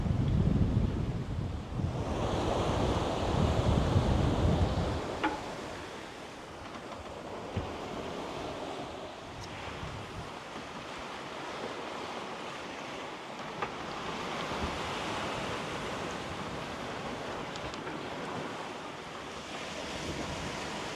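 Ocean waves surge and wash around a sailboat crossing from Culebra to Puerto Rico, with heavy wind buffeting the microphone and a strong rush early on that eases into a steadier churn of water; no voices.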